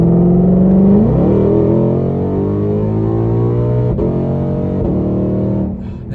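Tuned 2020 Shelby GT500 with an upgraded exhaust, its engine roaring loud and close as the revs climb, dip with a quick shift, then pull again in a deep droning growl before easing off at the end.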